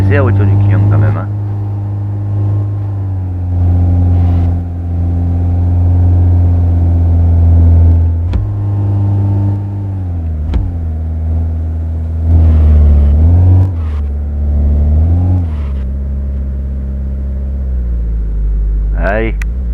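A customer's car engine running in a repair garage in the video game My Garage: a loud, steady humming idle broken by several rising revs and a final deep drop in pitch.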